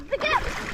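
A kayak paddle slaps and splashes water in one brief, close, loud burst of splatter, with a voice mixed in.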